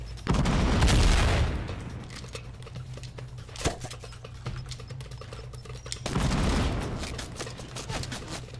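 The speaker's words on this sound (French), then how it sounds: "Fais gaffe, j'ai mis des grenades, putain." Fortnite match with grenade blasts and gunfire: two loud, dense bursts of explosive noise open and close the span, with rapid sharp crackling shots and clicks scattered between them.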